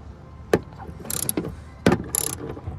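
A 17 mm socket ratchet clicks as it loosens a rear seat bolt in a Volkswagen, with a few sharp ratcheting bursts up close and small metallic knocks between them.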